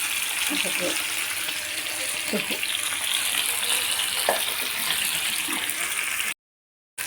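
Spices lightly frying in a pan for a rohu fish curry, a dense continuous sizzle with occasional stirring scrapes, close and loud, with someone talking over it and a brief silent gap near the end.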